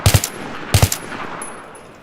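Assault rifle fire in Battlefield 3 at about 80 meters: two short bursts of sharp, loud shots, each a quick double or triple crack, separated by a pause, with a fading tail afterward.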